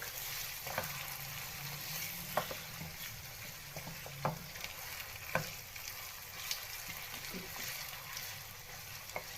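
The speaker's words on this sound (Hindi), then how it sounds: "जी हम चिकन को अच्छे से करेंगे फ्राई कलर चेंज होने तक।" Chicken fries in a karahi with a continuous close sizzle and occasional sharp crackles and spoon knocks. A brief voice is heard faintly under the frying.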